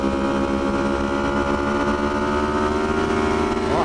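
Yamaha R1 superbike engine (2015 or later model) pulling hard on the throttle on a race track, a loud, steady, close roar with rising harmonic tones and no pauses.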